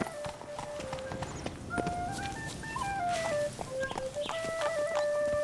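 Hooves of Roach the horse clop along in The Witcher 3: Blood and Wine, close and fairly steady, mixed with music tones and a faint voice.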